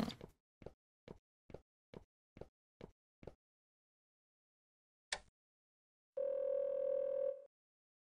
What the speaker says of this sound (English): You can just use the phone in the office to contact Captain Liu.